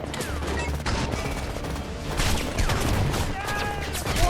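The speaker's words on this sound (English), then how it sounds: "Oh, it's burst fire." Burst-fire gunshots from the shooter game Homefront, clustered cracks of gunfire repeating in short volleys over continuous battle noise, loud and dense throughout.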